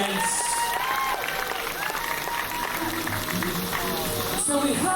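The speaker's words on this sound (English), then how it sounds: "Please, massive round of applause for Leah" Audience applause with some cheering for Leah, a contestant just eliminated from a round of a cream-cracker-eating game at an entertainer event, sustained and loud across the room without a break.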